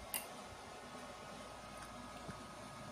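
A 5-ampere PGR Bell speaker protection relay on a homebuilt 300-watt OCL stereo power amplifier gives a sharp click, then another faint tick, over a steady low hiss.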